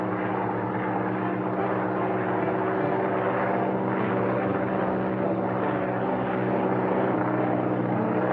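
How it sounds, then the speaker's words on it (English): A propeller airplane drones overhead in a 1946 jungle adventure serial. The engine roar is steady and loud and continues unbroken for several seconds. "Is that a plane? That's a plane, all right."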